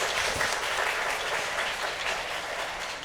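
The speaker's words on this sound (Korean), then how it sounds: "그럼 지금부터 신랑 박용진 군과 신부 김지현 양의 축복된 결혼식을 여러분의 큰 박수로 시작하겠습니다." Wedding guests applaud warmly in a grand ballroom at a convention hall as the ceremony begins. The dense, steady clapping fills the room throughout with no talking over it.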